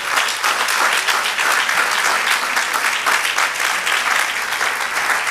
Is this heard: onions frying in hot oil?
no